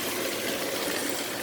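A Lionel O gauge model train runs steadily, a close, continuous low mechanical hum and rumble with no break through the brief moment.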